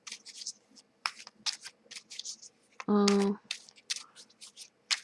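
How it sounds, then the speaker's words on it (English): Tarot cards shuffled and drawn, a series of quick papery flicks and soft snaps in uneven bursts, with a short vocal sound midway. "I'll draw 3 cards."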